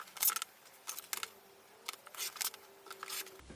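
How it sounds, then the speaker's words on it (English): Quiet scissor snips cut through fabric in short irregular bursts, with brief pauses between cuts, close by and alone. "let's get started with the cutting into pieces"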